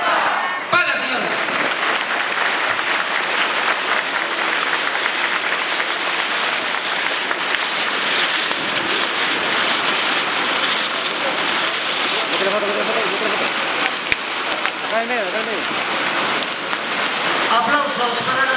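Loud, sustained applause from a crowd celebrating the silver anniversary of the Asociación Casa Tauquina, a thick continuous roar of clapping that stays steady from start to finish.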